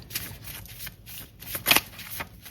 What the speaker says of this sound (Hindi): अब मैं कुछ हैंडमेड कार्ड्स यहाँ पे निकाल लेती हूँ आपके लिए एक्वेरियस।